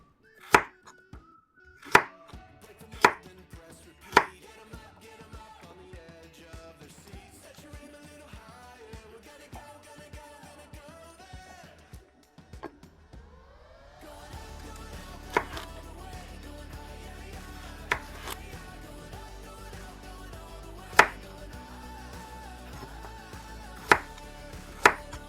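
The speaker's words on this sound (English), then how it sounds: "Dicing up, dicing up" A knife chops food on a cutting board for brown stew goat. The sharp, close knocks come at an irregular pace across the stretch, with some louder and some softer, and cooking clatter and background noise build up partway through.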